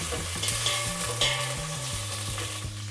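Cumin, coriander and black pepper sauté in a home kitchen pan for chicken manthi, a steady sizzle broken by a rhythmic scrape and tap of the stirring spoon.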